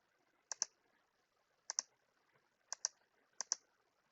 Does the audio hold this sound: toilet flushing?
no